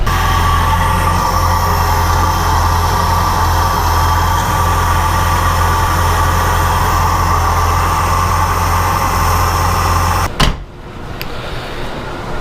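A 1970 Buick GS engine runs loudly and steadily with a deep droning hum for about ten seconds, then cuts off abruptly, leaving a quieter background.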